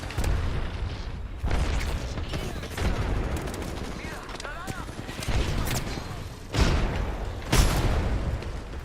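Grenade blasts and gunfire in the Apex Legends video game: repeated heavy booms and bursts of shots pile up through a chaotic firefight, with voices talking over the noise.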